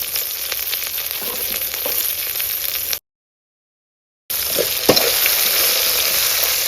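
Pirandai (adamant creeper) sizzles and fries in a pan as it is sautéed for thuvaiyal, a steady crackling hiss with soft stirring scrapes, briefly cutting to silence before the sizzle resumes.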